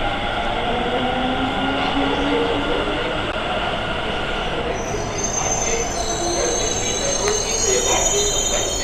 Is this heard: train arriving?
yes